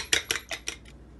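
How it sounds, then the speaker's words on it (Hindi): Eggs being beaten with a utensil for frying kebabs make four quick, bright metallic clinks against a bowl, evenly spaced and close, followed by quiet. "तो इसके लिए हम अंडे फेंट लेते हैं"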